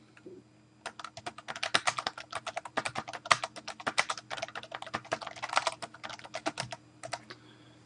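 Rapid, steady keystrokes on a computer keyboard, close and clear, as a description is typed into a service request form; no one speaks.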